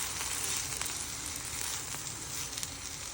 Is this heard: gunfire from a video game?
no